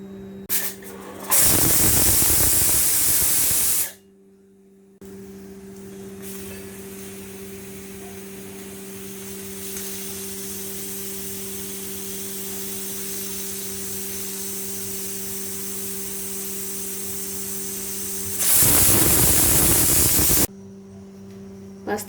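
A pressure cooker on a medium gas flame, cooking taro leaves, lets out two loud bursts of whistling steam hiss with a steady hiss and hum in between, no voices.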